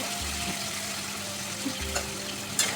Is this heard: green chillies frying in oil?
yes